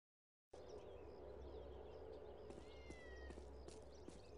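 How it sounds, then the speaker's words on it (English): Cat meowing in the video game Postal 2, a few short mewing calls over a low steady game ambience, fairly faint and mid-distance. "Meow?"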